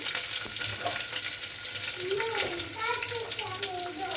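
Onion and green chillies sizzle and fry in ghee in a pan for ghee rice, a constant close hiss with a spoon stirring now and then, under a voice talking.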